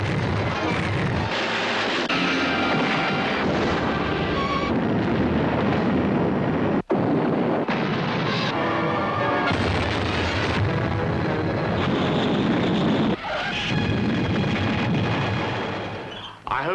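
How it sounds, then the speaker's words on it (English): Explosions in a movie trailer roar as loud, continuous, rumbling blasts that fill the whole stretch. There is an abrupt cut in the middle, and fresh bursts follow. "An explosion always looks good."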